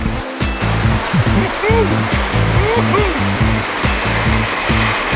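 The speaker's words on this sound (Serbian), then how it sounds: "Kada naiđete na par većih brzaka i vodenih kovitlaca" Rushing whitewater of river rapids and swirling whirlpools at Bovec, a steady loud broadband roar filling the scene without pause, with a voice faintly present beneath the water.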